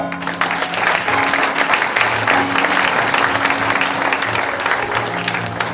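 A church congregation claps steadily and loudly at a healing service, a dense, continuous wash of applause with a low crowd murmur and faint voices underneath.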